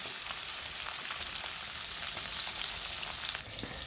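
Tengra fish frying in hot oil, a dense, steady crackling sizzle that fills the whole span, close and fairly loud with no voices.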